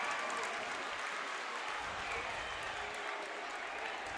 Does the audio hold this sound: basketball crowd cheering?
yes